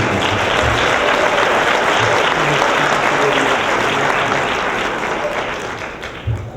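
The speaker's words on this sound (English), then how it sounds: "Have a nice round of applause again, once again" Audience applause for a select choir at a senior academic awards ceremony, loud sustained clapping from a full room that tapers off near the end.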